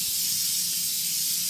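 Cooking spray hisses steadily from a can onto bread pans, a close, continuous aerosol spray lasting the whole moment with no talking.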